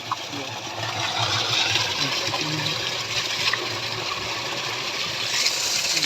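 Irrigation water starting to flow in a farm field, a steady broadband rushing and gurgling that holds at an even level throughout, close by with no talk.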